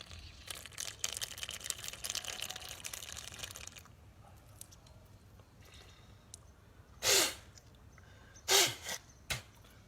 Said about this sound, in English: Always sniff out the excess water, but not putting extra effort.